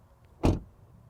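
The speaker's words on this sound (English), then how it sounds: "Door open and close sound from the outside" Door of a 2022 Ford Mustang Mach-E GT opening and closing, heard from outside the car as a single solid thud, close and brief against quiet surroundings.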